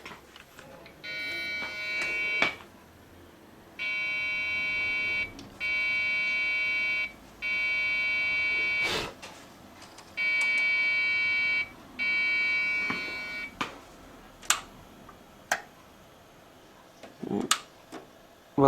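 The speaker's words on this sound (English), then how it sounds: "See if that's the same beep." A loud electronic beep pattern from a Dell Dimension 5000 computer's POST error code repeats in long steady tones separated by short gaps, with clicks and handling noises around it.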